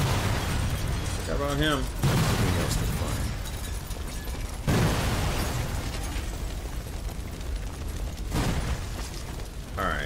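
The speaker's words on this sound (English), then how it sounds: "secondary explosions" Secondary explosions in the shooter game Sniper Elite 4: three heavy booming bursts a few seconds apart, each rolling into a rumbling tail, with someone talking over the gameplay between them.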